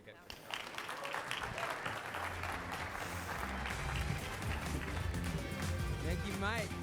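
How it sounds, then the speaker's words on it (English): Conference audience applause at TechCrunch Disrupt's Startup Battlefield finals, a full crowd clapping steadily with music and voices mixed in toward the end. "A round of applause,"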